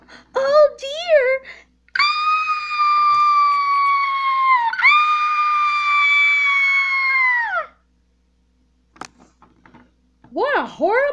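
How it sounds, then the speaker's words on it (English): A long, loud, sustained scream held for several seconds, preceded and followed by short high-pitched voiced cries, with quiet gaps between. "What a horrible screaming!"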